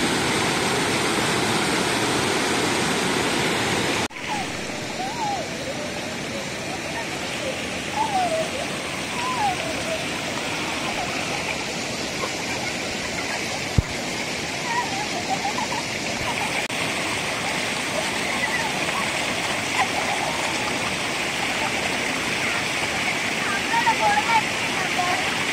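Water rushes steadily where several streams merge, a constant broadband roar running throughout, with a person speaking over the flow.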